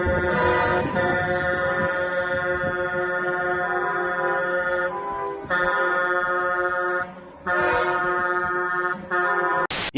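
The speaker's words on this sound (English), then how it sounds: "dozens of huge trucks honk their horns at him in frustration" Dozens of big trucks of a convoy honk their horns on narrow Washington, D.C. streets, loud sustained blasts in long overlapping bursts with short gaps between them.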